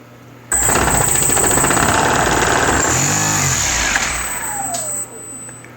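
Quadcopter propeller motors on a BB8 astromech droid drone spin up in a bench motor test, a loud steady buzzing whine that holds for several seconds and then steps down in level, with no talking.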